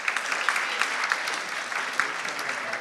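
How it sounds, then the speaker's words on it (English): A conference audience applauds a final speaker on revenue leadership, a thick, even roll of many people clapping that holds steady at moderate volume with occasional louder claps popping through. "let's have a round of applause for Adam"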